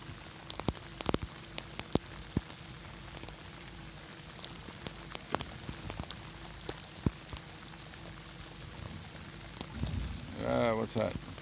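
Steady rain patters on a surface, with scattered sharper drops tapping nearby, then a short burst of voice near the end.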